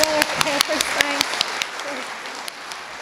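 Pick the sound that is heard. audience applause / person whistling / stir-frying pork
audience applause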